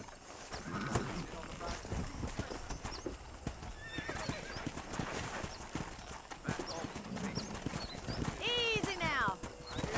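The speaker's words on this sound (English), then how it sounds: "Let's see if we can't wrangle some horses." Horses in the Western video game Red Dead Redemption clip-clop on hooves and let out several loud whinnies, one long neigh near the end, while someone talks in between.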